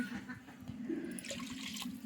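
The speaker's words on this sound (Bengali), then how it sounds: "হাঁড়ির মধ্যে পানি দিলাম।" Water pouring into a pot for steaming drumstick stalks, a faint splashing, gurgling flow heard up close with small knocks, continuing for a couple of seconds.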